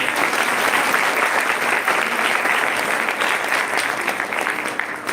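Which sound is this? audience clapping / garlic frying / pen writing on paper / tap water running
audience clapping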